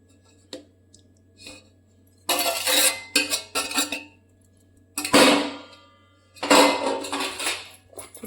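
A lid goes onto a jar of lemon pickle in several bursts of clinking and scraping, close and clear, with quiet gaps between the clatters and no talk.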